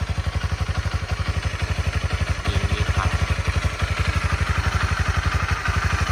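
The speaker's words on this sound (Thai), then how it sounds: "มาฟังเสียงเครื่องยนต์ใกล้ๆนะครับ" A 2018 Honda CB300R with 18,000 km idles close by, its engine thumping in a quick, even pulse with faint mechanical clatter, steady and alone.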